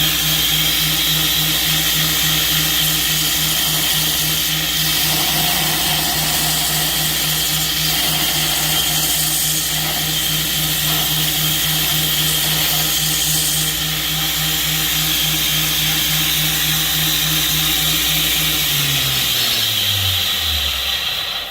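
A power grinder shapes a dusty knife handle blank, a steady loud motor whine with grinding noise running continuously, then winding down and slowing near the end.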